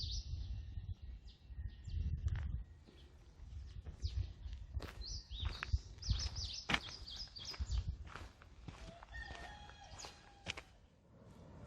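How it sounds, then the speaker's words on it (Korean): Birds chirp and trill intermittently outdoors along a walking trail past ginseng fields in Korea, over a low rustling background, with scattered footstep-like thuds nearby. "새소리 들으며 걷다 보면"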